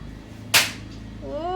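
Firecrackers set off nearby by a father and son: a single sharp, loud bang cuts through quiet background noise and decays quickly, followed by a faint high tonal sound.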